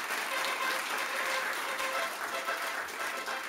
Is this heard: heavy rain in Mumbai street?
no